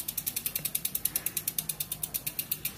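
The rear freehub of a mountain bike clicks in a fast, even ratchet run of crisp ticks as the wheel spins freely, close and steady with no talking.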